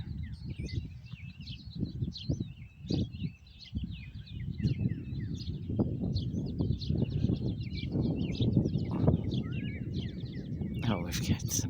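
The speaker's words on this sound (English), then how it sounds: "I just want to share this evening before the sun goes down with the birds singing." Birds sing and chirp steadily through a May evening before sunset, with high repeated calls from several birds at a moderate distance. A person talks underneath, and low rumbling noise runs throughout.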